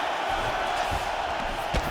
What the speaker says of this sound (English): the crowd absolutely loving it as these fighters work their way back to the feet